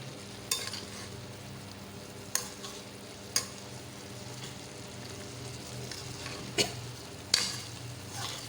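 Eggplant stir-fried with minced pork in a pan outdoors, with a soft continuous sizzle and a few sharp, sparse spatula knocks against the pan, heard up close.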